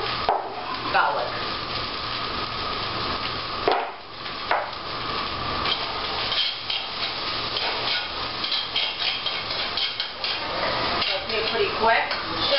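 Chopped shallots and fresh garlic sauté in olive oil in a pan, giving a steady soft sizzle with occasional utensil knocks, while a person talks over the cooking.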